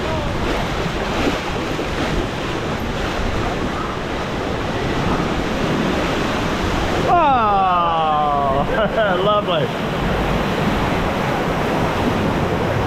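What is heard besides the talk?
rushing water on a Florida theme park water ride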